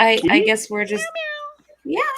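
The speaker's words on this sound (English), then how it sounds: "That is a cat." A cat spotted in a hedge meows a couple of times in quick, close calls, mixed in with a person talking nearby.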